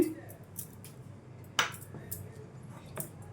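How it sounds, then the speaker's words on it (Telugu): A spoon stirs leftover idli batter with rice flour in a bowl, giving a few faint, scattered clinks and scrapes against the rim in a quiet room. "ఒక 2 టేబుల్ స్పూన్ వరకు బియ్యం పిండిని వేసుకొని కొద్దిగా గట్టిగా కలిపేసుకోండి"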